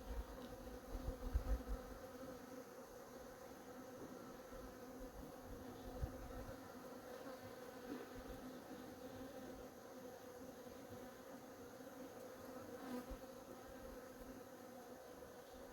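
Flies buzz steadily and faintly in a quiet setting, a soft continuous droning hum with occasional closer passes.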